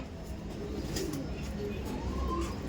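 A Madras pigeon gives soft, low cooing calls close by against a faint background hum, with no clear speech.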